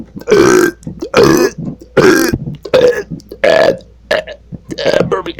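Kenny lets out a series of loud, close burps, about seven in quick succession, each long and croaky with short gaps between.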